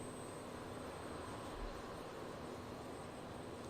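An Airbus A319 with CFM engines landing in a flight simulator, heard as a steady, faint, broadband roar of jet engines with a constant whine and a slight low thump midway, with no talking.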